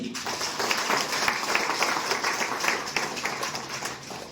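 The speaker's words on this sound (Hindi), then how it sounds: "साथियों, जबरदस्त ताली होनी चाहिए।" An audience at a business plan meeting claps, a steady crowd of hands patting at moderate loudness throughout, with no voices over it.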